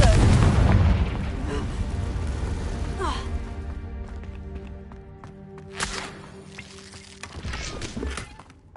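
Confringo fire spell from Hogwarts Legacy on PS5 bursting in a heavy boom that rolls and fades over several seconds, with a voice speaking faintly underneath.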